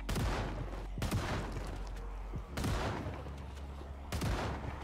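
Rapid bursts of gunfire from the zombie survival video game Project Zomboid, four loud broadband volleys spaced about a second apart over a steady background rumble, with no talking.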